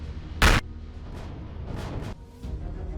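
A single weapon shot in Empyrion Galactic Survival, a sharp loud blast near the start followed by a low rumbling game ambience with a few softer whooshes.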